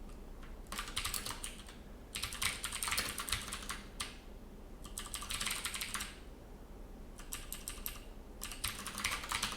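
A computer keyboard is typed on steadily and close by: dense flurries of rapid keystrokes come in several bursts separated by brief gaps, over a constant low background hum.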